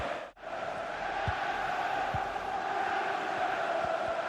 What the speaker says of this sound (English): Just listen to the crowd noise.